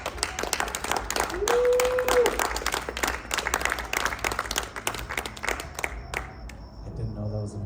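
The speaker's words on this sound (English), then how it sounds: "I didn't know that was an applause line." Audience applause at a film festival awards ceremony, a sustained wash of clapping that swells and then thins out toward the end, with a voice talking over part of it.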